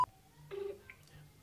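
A phone number is dialed: a short beep, then a burst of tone pulses, brief and moderately loud over quiet background hum.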